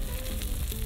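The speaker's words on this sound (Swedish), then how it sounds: "Jag friterar lite här." Food deep frying in hot fat on a grill, a continuous close crackling sizzle with no talk over it.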